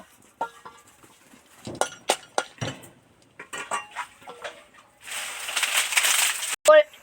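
Lentil dumplings (bori) go into hot oil for village-style deep frying: scattered clinks and clatter of a metal spoon and pan come first, then a burst of loud, hissing sizzle for over a second before more clinks.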